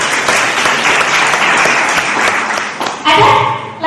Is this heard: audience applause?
yes